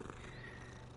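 A cat purring in the video game Hogwarts Legacy, a faint, steady low rumbling purr that runs without a break for about a second.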